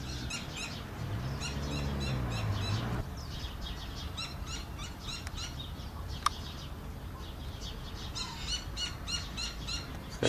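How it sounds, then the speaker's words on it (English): Large owl calls in a steady series of repeated hoots or shrieks over a noisy outdoor background, with a sharp click partway through and no talking. "And Mr. Owl is back"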